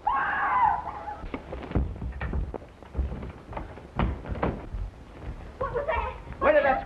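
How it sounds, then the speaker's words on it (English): A shrill scream opens a scene in a 1932 mystery film, followed by muffled voices and dull thumps, then another high cry near the end; the recording has the thin, hissy quality of an early sound picture. "Where did that scream come from?"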